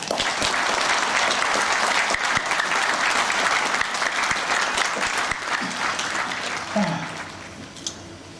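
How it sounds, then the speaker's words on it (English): An audience applauds a guest, the creator Gerry Anderson, as he takes the stage at a fan convention; sustained dense clapping fills the room, then thins toward the end while a few voices and brief sounds poke through. "So if we could please give a round of applause for the man himself, Gerry Anderson."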